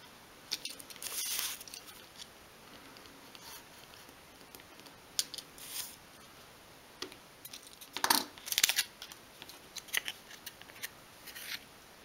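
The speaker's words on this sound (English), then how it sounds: "use your craft knife to trim around the paper." A craft knife trims around glued paper on a 1/12th scale novelty wall shelf piece, giving quiet, scattered scraping and snipping cuts in short bursts with pauses between, close and faint, no talking.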